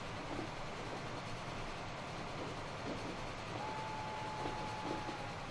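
Train running along a track in the Transport Fever video game, a faint steady rumble with soft rhythmic rail clatter and a thin high whine in the second half, no voices.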